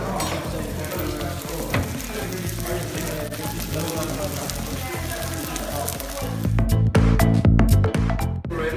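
Chicken pieces fry in a pan during a cooking class, giving a steady, dense sizzle with crackling pops that grows louder and busier near the end, with faint voices in the background.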